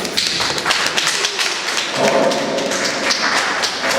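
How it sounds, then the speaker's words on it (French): An audience at a book signing for a collection of poems applauds, with dense, steady clapping and a few louder thumps, fairly close. "Est-ce que je peux recevoir des petites acclamations"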